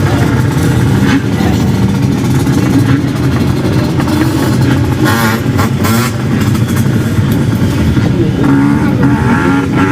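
Unlimited two-stroke long track speedway motorcycles race at a Bathurst long track meeting, loud, snarling engines revving and passing close with rising and falling pitch, a continuous roar of several bikes and no clear speech.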